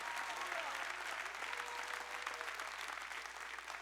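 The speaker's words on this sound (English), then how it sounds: "Clap your hands and shout like it's possible." Church congregation applauding and cheering continuously during a motivational sermon, a dense, steady wash of clapping.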